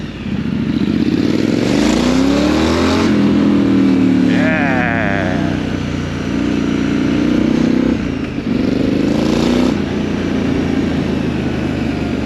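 A Triumph Scrambler 900 motorcycle engine drones loud and close while riding, its pitch rising and falling through gear changes under steady wind rush, with a voice talking over it.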